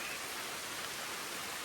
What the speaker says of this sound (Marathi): कसला पाऊस आलाय, जोरात जोरात.